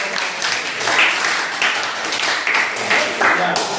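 Classroom students applauding after a group presents an answer, a dense steady patter of clapping from many hands, moderately loud and close, lasting a few seconds.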